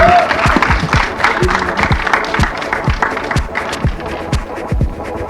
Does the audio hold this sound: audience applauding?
yes